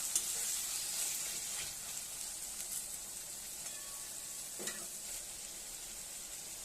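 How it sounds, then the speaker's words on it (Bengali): Chopped tomato and green chili sizzle steadily in a hot pan while being stirred, a constant frying hiss broken by a few soft scrapes and knocks of the spatula. "সমস্ত কিছু ভালোভাবে নেড়েচেড়ে মিশিয়ে নিচ্ছি।"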